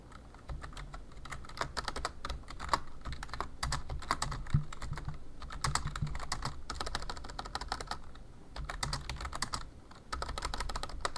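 Rapid typing on a computer keyboard during an online game of Catan, dense irregular key clicks in quick bursts with brief pauses, close and moderately quiet, no talking.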